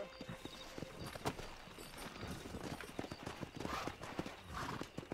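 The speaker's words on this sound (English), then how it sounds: "Let's see if we can't wrangle some horses." Horses in the Red Dead Redemption video game clop along with rapid, uneven hoof beats, and one or two whinnies rise near the end. A faint voice can be heard underneath.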